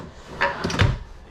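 Drawers under the kitchen island of an Alpine 3712KB luxury fifth wheel RV sliding open or shut, a couple of quick close thuds and rattles in a quiet interior.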